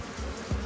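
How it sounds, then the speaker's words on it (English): Angry killer bees swarm and buzz in a brief, faint burst, with a couple of low droning pulses and no voices. "the angry bees continue to attack Reed and Jim"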